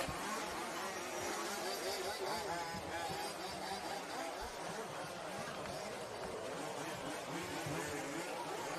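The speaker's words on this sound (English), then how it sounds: "you'll be able to hear the track announcers and the cars going past just for a couple minutes" Large scale off-road RC race cars at a European championship finals track, a continuous buzzing engine wash from several cars passing at a distance, steady and moderately faint, with crowd and announcer noise blended beneath.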